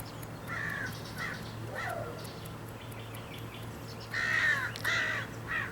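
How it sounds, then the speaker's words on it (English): Several harsh crow caws ring out in short bursts, a few early and a louder cluster near the end, over a steady low hum outdoors. "Got some angry crows in the background."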